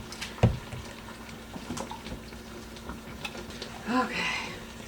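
Water is poured into a pot of sauce and swished around, a brief splash and a gurgling slosh near the end, with scattered kitchen clatter and faint background hum.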